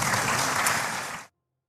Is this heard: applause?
yes